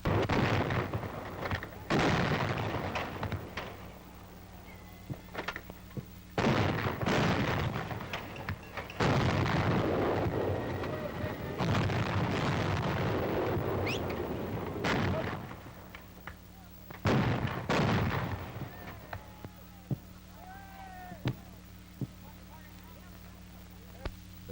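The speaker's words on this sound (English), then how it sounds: "The crews continue to fire the target as it falls." A 90 mm antiaircraft gun firing at an aerial target, heavy booming shots repeating at intervals of a few seconds, each followed by a rumbling decay, with someone narrating over the firing throughout.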